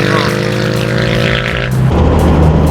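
Ducati 999 motorcycle engine with a dry clutch, running loud and steady with strong harmonic tones, then shifting pitch near the end as the revs change, close by with no talk over it.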